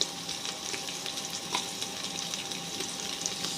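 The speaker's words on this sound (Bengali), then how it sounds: "সয়াবিন সব দিয়ে ভালো করে ভেজে নেব" Paneer with carrot, capsicum and soya chunks frying in a hot pan, giving a steady close sizzle and hiss with occasional crackles, no voices.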